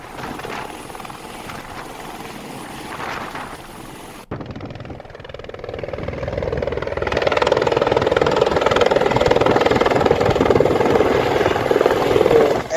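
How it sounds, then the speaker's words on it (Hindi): An Airbus H130 T2 seven-seater helicopter engine runs steadily, starting moderate and swelling louder after a brief cut, with a continuous mid-pitched turbine whine and rotor drone building and holding at close range with no talk. "H-130 T2 बोलते हैं और ये 7 सीटर हेलीकॉप्टर डेली 2 बार यहाँ से चंपावत जाएगा"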